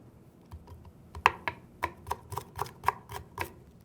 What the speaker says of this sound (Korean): 당근부터 썰어 보겠습니다